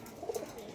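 Pigeons coo softly in a backyard loft housing master pairs and local birds, a few low murmuring coos in a short burst against quiet background.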